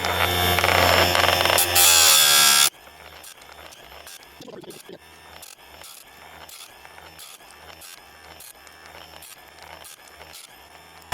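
A Chicago Electric sharpener grinds chainsaw chain teeth in a loud, harsh burst of about three seconds, then gives way to quieter, evenly spaced mechanical clicks and ratcheting as the chain is advanced.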